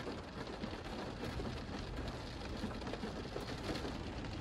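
Steady rain pours down on desert land at a campsite in a dense, even hiss, fairly faint and continuous with no voices.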